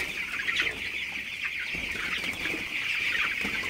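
Broiler chickens on a poultry farm clucking and chattering in a dense, continuous flock chorus, steady and moderately loud, with no speech over it.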